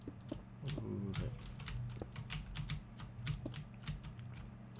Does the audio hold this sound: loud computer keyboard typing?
yes